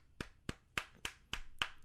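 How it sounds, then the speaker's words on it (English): A few people clap in a brief round of applause after a discussion of video game music, six sharp separate claps spaced about a quarter second apart, close and fairly faint, with no talking. "Round of applause for Corey Clay, guys."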